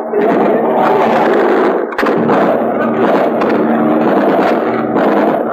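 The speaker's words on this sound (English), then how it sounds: "They're shooting at some buffaloes, apparently." Heavy gunfire from people shooting at buffaloes during the Vietnam War rolls on loudly and almost without pause, with sharp cracks and booming reports layered over one another.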